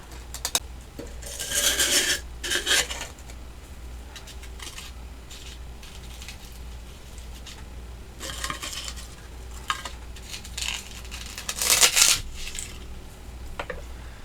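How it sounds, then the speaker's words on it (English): A paring knife cuts away a section of floral foam for a fall sunflower arrangement. The knife makes close, rasping scrapes in a few separate bursts, with quiet gaps between them and no voices. "I just take a paring knife. Basically, just need to take off a section here."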